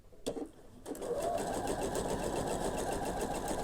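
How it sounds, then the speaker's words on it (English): Sewing machine stitching a single angled seam on half square triangle quilt pieces: a few clicks, then a steady, close, even whirring run that continues to the end. "I'll just sew one seam on the angled edge"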